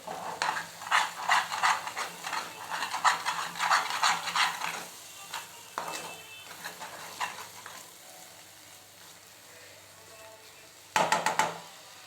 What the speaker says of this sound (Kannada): ಇದು ಹೆಂಗೆ ಲಟ್ಟಿ ಪಟ್ಟಿ ಕುದೀತತ್ತಲ್ಲ